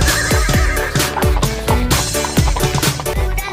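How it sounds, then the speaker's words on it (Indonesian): A horse neighs and whinnies loudly and repeatedly, with rapid descending squeals in a steady, bouncing rhythm throughout, heard up close. "ada kuda satu teman-teman"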